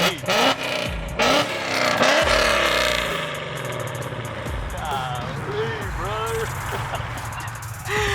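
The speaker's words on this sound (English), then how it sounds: "Him revving it right now" A car engine revs up and down at a car show with drifting, in several rising and falling bursts, with rough mechanical clatter and indistinct voices mixed in.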